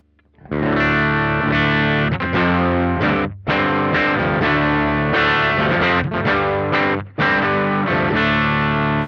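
Electric guitar played through a Beetronics FX Wannabee fuzz pedal with the tone control turned down, giving a dark, thick distorted sound in loud sustained chords with two brief gaps.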